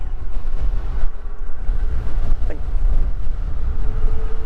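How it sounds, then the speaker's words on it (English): Steady, loud wind roaring and buffeting the microphone while riding a full-suspension e-bike straight into a headwind, with a low rumbling drone underneath throughout. "Like we're just going straight into a wind."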